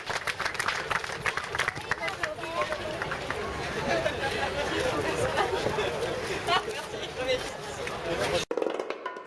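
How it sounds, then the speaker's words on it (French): An outdoor audience in Toulouse claps steadily for French Red Cross volunteers after a rescue simulation, with dense continuous applause and crowd chatter running throughout before cutting off abruptly at the end. "je pense qu'on peut applaudir les collègues là, qui viennent de réaliser la prise en charge"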